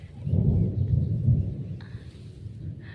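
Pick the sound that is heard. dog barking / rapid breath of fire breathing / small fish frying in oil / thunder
thunder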